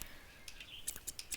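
Small, crisp snips from scissors cutting plants in the witchy gardening game Witchy Life Story: a few short, faint clicks spaced irregularly over soft background ambience.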